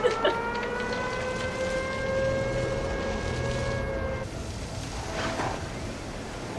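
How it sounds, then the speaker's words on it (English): Tornado sirens wail over a film scene during a sudden hailstorm, a steady rising tone with rain or hail noise beneath it that fades out partway through. "you just hailed for half a second and there are tornado sirens"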